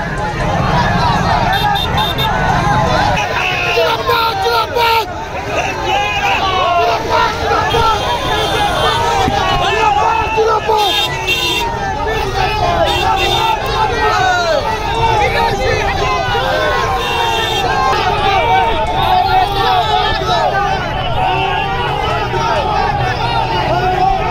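Political crowd shouting go-back slogans at a BJP candidate during a Lok Sabha election campaign in Chopra, a dense, continuous hubbub of many voices chanting and yelling throughout, loud and close with no pauses.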